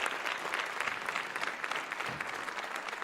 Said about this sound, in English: Once again, give yourselves a round of applause.